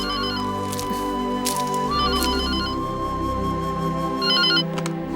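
A mobile phone ringtone plays a repeating electronic melody in short bursts over a steady background hum, loud and close, with no talking.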